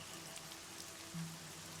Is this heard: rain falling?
yes